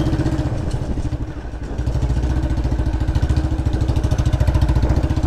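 Royal Enfield Bullet motorcycle, BS3 model, with a full loud aftermarket exhaust, thumping steadily at idle with a rapid pulsing beat, close and loud throughout, with no voices.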